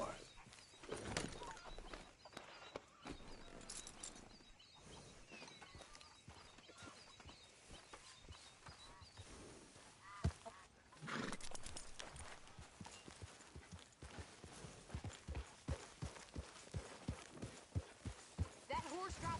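Clopping horse hooves at a walking pace in the video game Red Dead Redemption 2, soft and steady, with occasional voices talking and faint background ambience.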